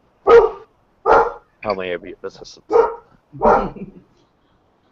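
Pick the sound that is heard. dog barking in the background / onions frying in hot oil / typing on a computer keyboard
dog barking in the background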